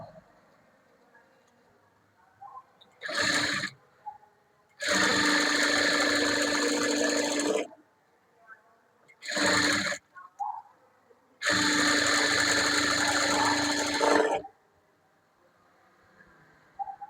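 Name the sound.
sewing machine stitching a blouse border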